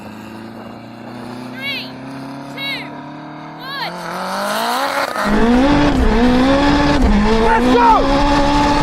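A Honda Integra Type R and a Porsche 918 Spyder drag racing, engines droning and rising through gear changes before a loud full-throttle roar with tire noise, close and sustained, while people talk and shout over it.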